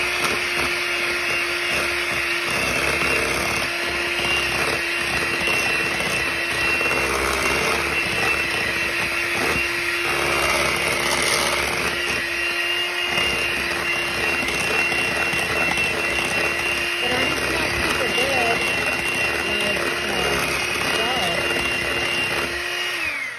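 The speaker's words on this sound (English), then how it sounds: "Let me put my little beaters in and I'll mix this up" An electric hand mixer whirs steadily and loudly as its beaters churn pumpkin donut batter, a constant motor whine with faint scraping through the bowl.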